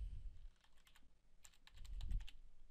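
Typing on a computer keyboard, several quick bursts of clicking keys close by, with a pause in the middle and a low rumble underneath, no talking.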